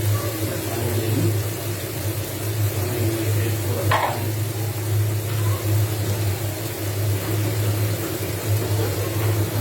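Chicken karahi sizzling in oil with ginger, garlic and green chillies in a wok, a constant loud frying hiss with low hum beneath and a brief clink midway, no talk.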